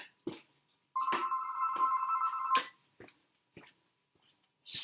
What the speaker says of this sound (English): Sorry, the phone rang.